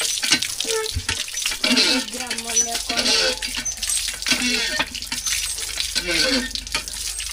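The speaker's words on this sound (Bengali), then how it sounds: "চলো হাত ধুই" Hands are washed under running water, a steady splashing stream with irregular wet rubbing and dripping sounds, while a voice is faintly heard in the background.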